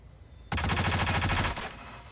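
Automatic gunfire in the Hitman video game, a single loud sustained burst of rapid shots lasting about a second, close and harsh, following a quiet lead-in.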